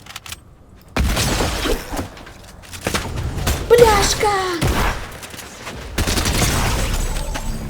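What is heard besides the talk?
gunfire in the video game Fortnite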